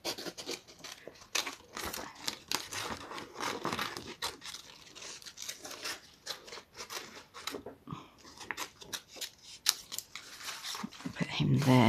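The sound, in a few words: fussy cutting paper with scissors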